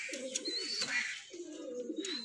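Pigeons kept for breeding coo in soft, low rolling phrases, two cooing bouts separated by a short pause, with faint chirps and a thin whistle from other birds nearby.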